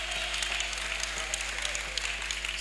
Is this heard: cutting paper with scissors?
no